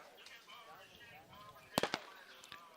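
A starter gun fires to open a men's 200 m track race, one sharp crack followed by a second brief report, set against a crowd murmur and a commentator's voice.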